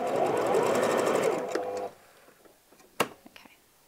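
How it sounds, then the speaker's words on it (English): A sewing machine whirs rapidly and steadily while stitching around the edge of a fabric ruffle, then stops abruptly, followed by a sharp click and a few soft handling taps nearby. "So you've got one continuous stitch going all the way around the edge of the ruffle."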